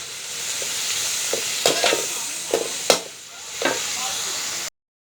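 Pork and snow peas stir-fried in a hot pan, a continuous loud sizzle broken by several sharp scraping clanks of the spatula stirring, with no talking.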